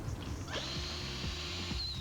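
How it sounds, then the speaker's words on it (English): A power drill pre-drills MDF before screwing, whirring briefly with a rising pitch over a low background rumble, close and moderately loud. "always pre-drill before you screw and use glue on all your joints"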